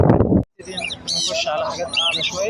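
Caged birds at a bird market in Jeddah chirp and tweet in bright, overlapping calls after a brief burst of someone speaking, with bustling market noise underneath.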